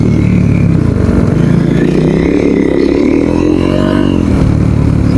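KTM Duke 390 motorcycle pulling away in first gear, its engine droning loud and close throughout with a rising rev toward the end, wind rush mixed in.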